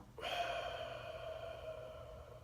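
A single slow, deep exhale during breathing meditation, a soft breathy rush that starts abruptly and fades gently over a couple of seconds, close and quiet.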